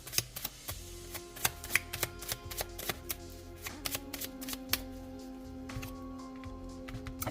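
Tarot cards being shuffled, a rapid run of crisp papery riffles and taps with a faint steady hum underneath, no voices.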